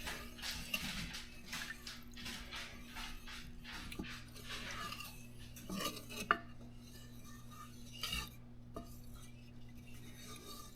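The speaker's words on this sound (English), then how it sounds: "so for about 6 minutes we're going to stir this" Lemon meringue pie filling being stirred in a pot on a gas stove: faint, steady scraping and clinking of a utensil against the pan, quiet and continuous with a low background hum.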